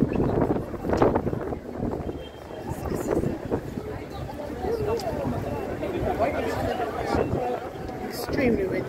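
Strong wind buffeting the microphone on a busy street in Camden Town, a steady rumbling roar with gusts, with crowd chatter and voices in the background.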